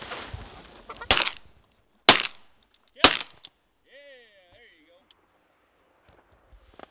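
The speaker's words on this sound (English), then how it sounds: "Nice shooting, Tom." Shotguns fire during a goose hunt: three loud, sharp blasts about a second apart ring out close by, followed by faint goose honking and quiet background noise.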